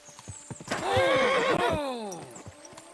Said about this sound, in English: I wonder if I should get off my horse.